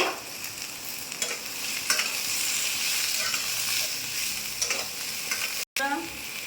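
Chopped ridge gourd and pumpkin stirred and fried in a pan for a Bengali navratna dish: a steady close sizzle with spoon scrapes now and then and a brief break near the end.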